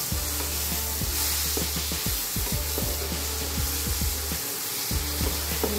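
Grated guava with dry fruits roasting in a pan for a guava kheer sweet, a steady close sizzle with repeated soft scrapes and stirring strokes, a low hum underneath and no voices.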